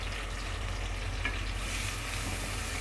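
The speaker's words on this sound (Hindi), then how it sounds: "अब प्याज को हम तब तक फ्राई करेंगे जब तक इसका कलर चेंज ना हो जाए" Finely chopped onions frying in hot oil in a pan, a steady close sizzle with a faint stir partway through and no talking.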